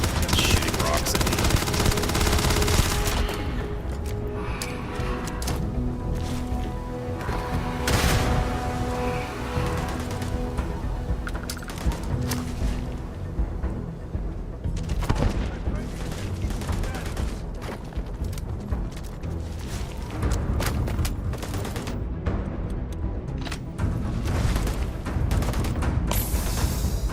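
A rock-shooting creature in Starfield pelts the player with a dense, continuous barrage of sharp impacts and gunfire-like bursts, loud and close throughout, with a voice talking over the clatter.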